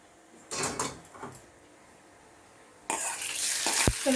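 Popped mustard seed tempering is poured into onion chutney, a brief clatter and scrape of the pan, then a sharp burst of loud sizzling and spluttering with a small knock near the end.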